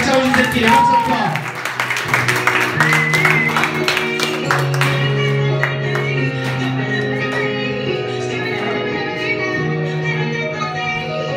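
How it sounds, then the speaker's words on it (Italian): A crowd applauds at a competition, steady clapping blended with loud music and voices throughout, dense and continuous rather than isolated claps. "Un applauso ragazzi"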